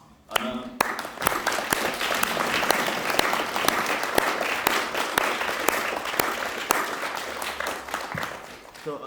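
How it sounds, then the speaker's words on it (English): An audience at a college talk gives a sustained round of applause, starting abruptly after a brief voice and holding a dense, even clatter of claps before tapering at the end. "if you guys would like to give him a massive round of applause"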